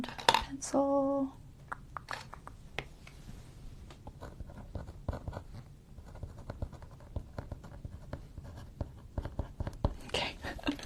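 A pencil writes a note on paper, making light, intermittent scratching strokes close by after a short louder knock at the start.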